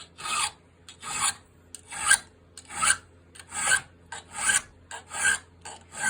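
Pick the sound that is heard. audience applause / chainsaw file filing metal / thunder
chainsaw file filing metal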